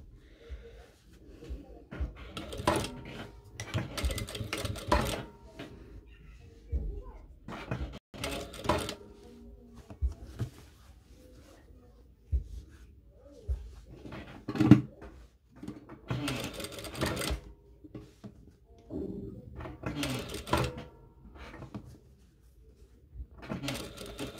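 A sewing machine stitches a facing on a garment, running in repeated short bursts of rapid stitching separated by quiet pauses, close and moderately loud, with no voices.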